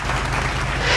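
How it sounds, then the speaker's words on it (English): A classroom group claps for itself, producing a steady, dense patter of applause at moderate loudness that lasts the whole moment. "Clap for yourselves."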